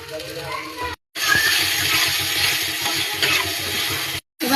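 Chopped onion and tomato fry in a pan for egg bhurji, a steady close sizzle with stirring scrapes, cut by two brief silent gaps.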